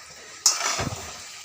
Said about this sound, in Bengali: এইবার এটাকে ভালো করে মশলা দিয়ে নাড়ছি।